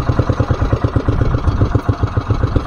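A fishing boat's engine idles steadily at sea, a loud, close, rhythmic chugging that throbs in even pulses throughout.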